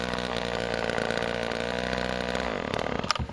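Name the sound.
chainsaw engine idling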